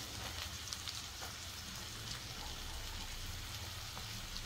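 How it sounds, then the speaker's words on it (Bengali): Chopped onion frying in a pan, a steady soft hiss and sizzle with faint crackles, quiet and continuous, with no talking. "পেঁয়াজটাকে ভালো করে ভাজবো।"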